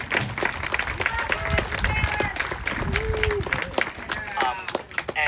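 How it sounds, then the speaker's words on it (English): Applause and crowd noise from an audience at a high school marching band and color guard preview show, a dense steady wash of clapping and cheering with some voices mixed in, loud and sustained throughout. "Let's give a huge round of applause for Mr."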